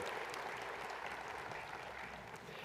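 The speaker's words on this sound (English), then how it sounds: "How about a round of applause for all of them?" A large audience at a university winter commencement ceremony gives a round of applause, a faint, steady wash of clapping heard from a distance throughout.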